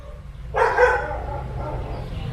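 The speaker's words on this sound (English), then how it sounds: "That's one of our security dogs." A security dog gives a single short, muffled bark at middle distance against a low room hum, trailing off into quiet.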